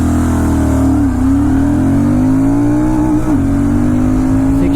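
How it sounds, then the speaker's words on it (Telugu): A Royal Enfield Super Meteor 650 motorcycle pulls hard, its loud engine note climbing steadily in pitch with two brief dips like gear changes. The engine is heard alone, close and strong. "let's do a pull in the super Meteor 650"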